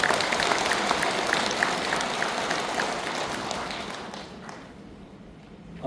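Applause at a Korean Buddhist dharma service: a sustained wash of clapping from a large hall audience that gradually fades away toward the end.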